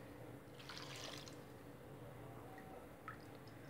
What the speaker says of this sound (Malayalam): ഇനി വെള്ളമാണ് ഞാൻ ഒഴിച്ചു കൊടുക്കുന്നത്.